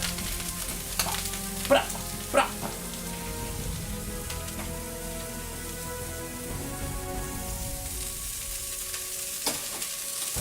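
A burger fries with softened onions, making a dense, continuous close sizzle like steady rain, with a few brief clicks and taps of a utensil over the crackle and no voices.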